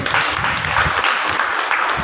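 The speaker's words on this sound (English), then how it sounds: "Let's clap for them." Applause from an audience of students at a college farewell event, a dense steady patter of many hands filling the whole stretch at close range.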